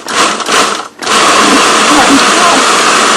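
Blender pulsing sofrito ingredients, loud close motor whirring in two short bursts separated by a brief stop, then a sustained grinding run, with talking faintly underneath.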